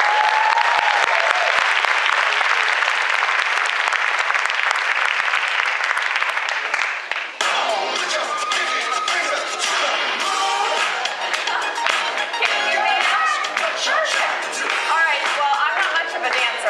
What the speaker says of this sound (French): je vais vous demander d'accueillir avec un tonnerre d'applaudissements Rebecca Morris